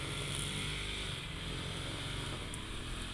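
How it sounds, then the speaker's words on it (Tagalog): Grass cutter running steadily outdoors beside a barangay hall, a continuous buzzing engine drone with no breaks, fairly close and loud throughout. "Yan ang nag-grass cutter."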